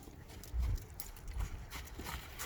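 Hooves of a horse being moved through direction changes during colt-starting groundwork at an equine expo, giving soft, uneven thuds and clip-clops against a low, noisy background.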